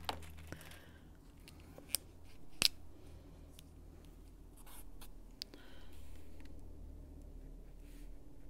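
A chisel-tip marker scratches across a paper page in short, close strokes, with a few sharp clicks and taps between quiet stretches of writing.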